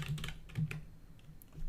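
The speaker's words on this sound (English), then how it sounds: "So I'll go ahead and just type one customer name." A handful of soft keystrokes on a computer keyboard as a customer name is typed, quiet irregular taps close by.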